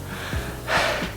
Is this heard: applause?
no